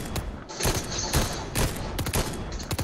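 Rapid bursts of gunfire in the Fortnite video game, several loud volleys of shots fired in quick succession across the whole stretch with brief gaps between them.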